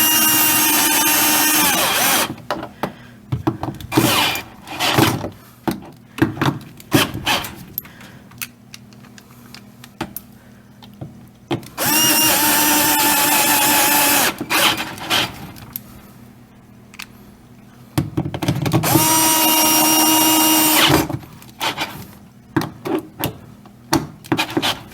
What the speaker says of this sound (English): I'm going to go ahead and put the other bolts in.